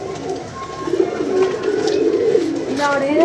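Pigeons coo close by in soft, low, rolling murmurs that swell and continue through the short stretch, with a faint background hum.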